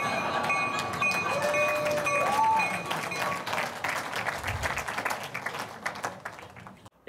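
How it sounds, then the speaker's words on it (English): A train arriving at a station, a steady rumbling roar with a brief high whistle or horn tone near the start, then clattering of wheels on rails fading toward the end; no speech. "Here comes the train!"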